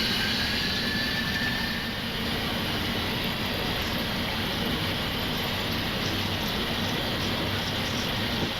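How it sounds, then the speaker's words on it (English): A steady, loud roar of Boeing 737 jet engines at takeoff thrust fills the cockpit, a continuous broadband rush with a faint high whine that stays constant throughout, with no voices. "And on heading select TOGA, set takeoff thrust."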